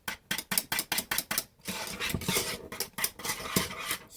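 A utensil stirs peanut butter pie filling in a bowl with a quick run of rhythmic scrapes and clinks, then a steadier, continuous mixing sound, close and moderately loud.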